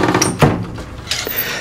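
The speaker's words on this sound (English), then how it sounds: "I locked the door and I forgot I locked it" A loud, brief rattle and knock from a locked screen door being pulled, one sharp jolt followed by lighter clatter, close by with no talk.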